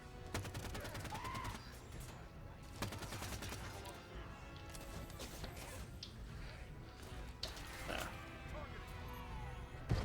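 Rapid bursts of gunfire from the video game Halo Infinite crackle faintly and almost continuously for ten seconds, with a few heavier shots among them and game noises and a voice in the background.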